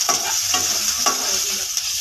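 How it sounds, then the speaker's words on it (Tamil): Onions sizzle steadily in a hot pan while cooking chickpea sundal, a utensil scraping and stirring through them a few times. "இப்போ நம்ம இடையில இடையில எடுத்து கிளறிக்கலாம்"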